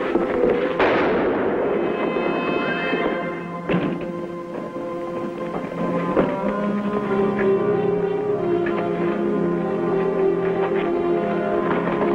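A sudden gunshot rings out in a 1957 western TV episode, a single sharp crack near the start that gives way to dramatic orchestral score continuing underneath.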